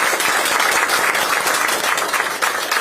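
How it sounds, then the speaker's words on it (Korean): Dense, loud applause fills a hall at a Democratic Party supreme council meeting in Yeonggwang, South Jeolla, with many hands clapping continuously and evenly throughout. "큰 박수 좀 부탁을 드립니다"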